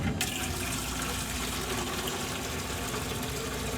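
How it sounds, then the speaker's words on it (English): Water is poured steadily onto the outside of a bag of ground coffee for cold brew, making a continuous close splashing rush. "I'm just pouring on the outside of the bag."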